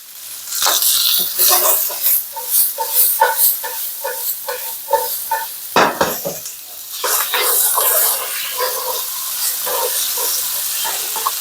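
Garlic sizzles in a non-stick pan with vegetables, a steady loud frying hiss with bursts of stirring and scraping through the whole stretch, no talking.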